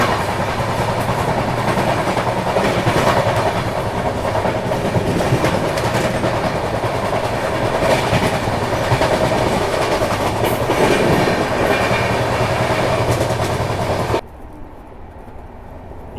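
The Maharashtra Sampark Kranti Express runs at high speed near 130 past Bilimora station, giving a steady loud roar of wheels and rail with clickety-clack rhythm throughout, which drops suddenly to a quieter rumble near the end.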